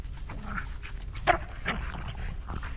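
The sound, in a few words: dogs barking while playing in the snow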